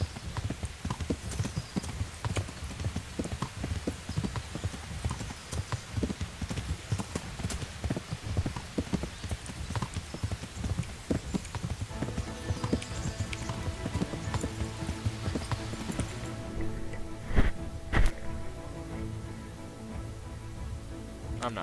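Horse hooves clip-clop steadily as a rider travels in Kingdom Come: Deliverance, a continuous trotting rhythm over ambient game sounds, with a voice talking faintly underneath at times.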